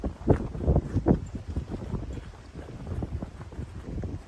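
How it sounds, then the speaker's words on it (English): Gusty wind buffets the microphone in low rumbling bursts on a disc golf course, strongest near the start, then settling into a steady blustery roar. "Super windy today."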